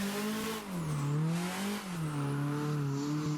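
A car drifting after a handbrake entry on a course at Okuibuki makes a continuous engine drone that rises and falls with revs, along with faint tire noise, heard alone and fairly distant.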